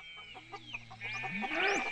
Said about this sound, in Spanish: Cacareó Clack aún más fuerte.